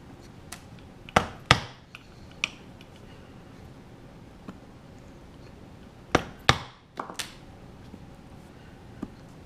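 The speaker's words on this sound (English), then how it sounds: "and then I'll put the rivets in" Rivets being hammered into a leather camera and utility bag: sharp, hard strikes in two brief clusters, a couple of blows around the first seconds and a quicker burst of three or four later, separated by near-quiet.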